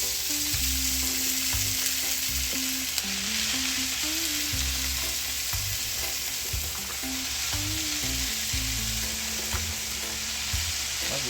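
Chopped callaloo hits a hot pan with saltfish for Jamaican callaloo, setting off a steady, loud sizzle and crackle that runs throughout, with faint stirring and clinks of utensils underneath.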